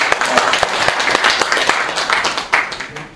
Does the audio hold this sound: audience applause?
yes